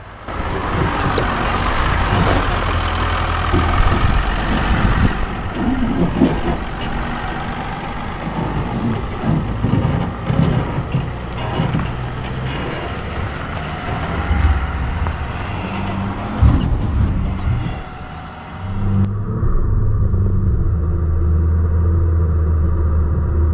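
A 2024 Chevrolet Silverado ZR2 pickup grinds along an off-road track in 4 low with traction control off, its engine droning loud and steady with rumbling surges, thumps from the rough ground, and a deep idle near the end.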